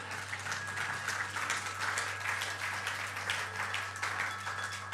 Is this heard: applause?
yes